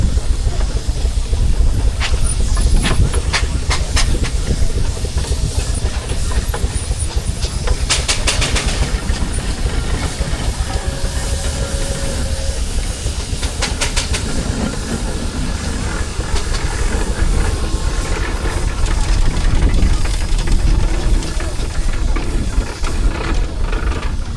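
A steam traction engine runs in a show arena at a rural fair in Sussex, with a continuous low rumble, mechanical clatter and occasional hissing bursts, loud and close throughout.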